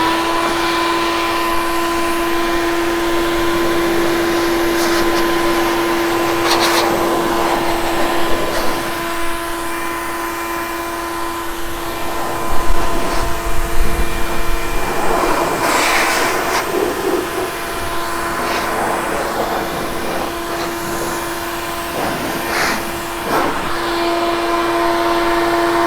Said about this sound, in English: So by using the turbo car dryer, I'm eliminating any excess water